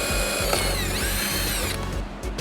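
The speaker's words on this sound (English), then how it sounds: "And we'll put a bigger drill." A power drill fitted with a larger bit widens a hole while a 1016 Industries widebody kit goes onto a 2023 Lamborghini Urus Performante. The motor whines loudly and continuously close by, its pitch sweeping up and down as the bit cuts.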